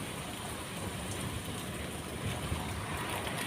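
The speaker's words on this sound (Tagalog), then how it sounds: "Grabe yung ulan. At grabe yung hangin guys." Heavy rain pours down with gusting wind in the UAE, a dense, steady hiss and rumble filling the whole stretch without pause.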